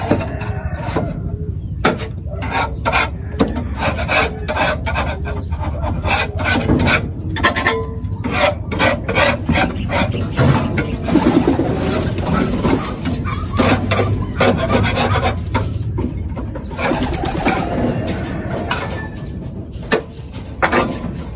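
Repeated scraping and rasping as a pigeon loft breeder area is scraped clean, steady rough strokes close by and alone, with brief knocks between passes.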